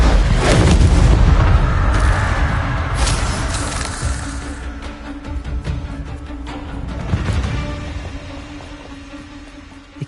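Hogwarts Legacy Confringo spell blasts thunder as heavy, rumbling booms, loudest at the start and then decaying into scattered smaller bursts and a fading rumble.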